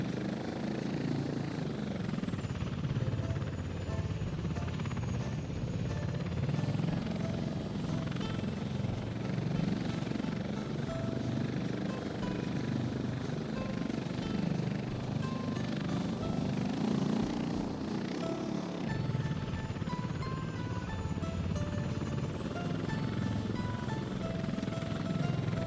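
A helicopter flying in the city-building game Workers & Resources, a loud, continuous rotor drone with a steady rhythmic chop that holds at constant volume throughout.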